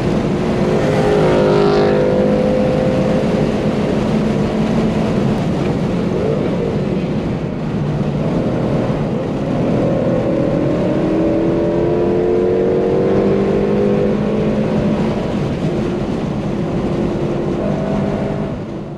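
A Subaru BRZ with an OEM final drive drives hard on a race track, with a loud, steady engine drone that rises and falls through the throttle and shifts for about twenty seconds, heard alone.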